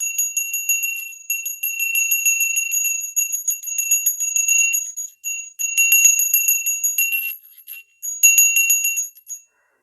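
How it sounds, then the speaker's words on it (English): A bright, high bell rings again and again in quick bursts, each shimmering tone hanging briefly before the next strike, clear and close with no voices. "I'm going to cleanse our space with our beautiful new bell."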